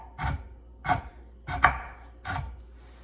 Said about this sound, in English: you just take your knife and you just start cutting up your candy bar till you get it the size pieces you would like